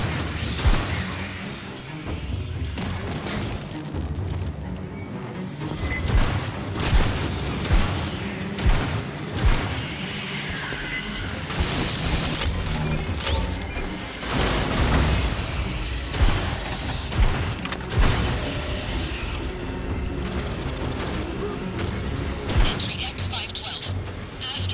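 Rapid bursts of gunfire against xenomorphs in the sci-fi shooter game Aliens: Fireteam Elite, recurring thuds and booms in a dense, continuous battle din, with voices speaking over the fighting.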